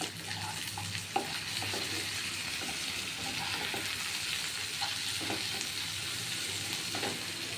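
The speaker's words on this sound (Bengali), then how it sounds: "লবণ দিয়ে এবার নাড়াচাড়া করবো" Vegetarian chow mein stirred and fried with salt in a pan, a steady sizzle throughout with faint scraping and stirring clicks, moderately quiet and without voices.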